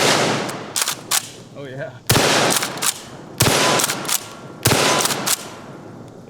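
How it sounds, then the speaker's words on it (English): Loud, booming shotgun blasts from a Kel-Tec KSG-12 bullpup shotgun fired in steady succession, each followed by the clack of pump-action cycling, with a brief spoken exclamation between shots. "I've never fired a Keltec KSG before. Let's see how this thing feels."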